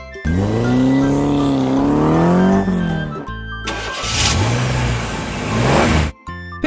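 A convertible car's engine revs up and down in loud rising and falling sweeps, then accelerates away with a rougher, noisier roar before cutting off abruptly.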